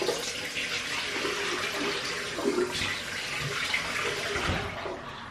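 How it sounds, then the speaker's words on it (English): Tap water runs steadily into a sink while a cloth is rinsed under it, a close, continuous splashing wash with slight shifts as the cloth moves. "Then I'll rinse my cloth again."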